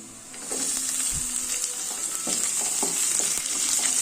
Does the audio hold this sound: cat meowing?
no